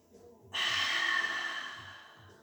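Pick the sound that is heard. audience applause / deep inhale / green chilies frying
deep inhale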